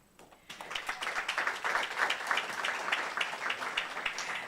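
Sustained applause from a university research week audience, many hands clapping densely and steadily after a brief quiet start, fairly close and loud throughout.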